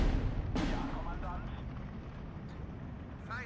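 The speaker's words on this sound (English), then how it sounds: "A little bit of a bombing attempt from my teammates." Ju-88 bomber explosions in Steel Division 2 roll as a heavy, muffled, rumbling blast that fades over a few seconds, with someone talking over it.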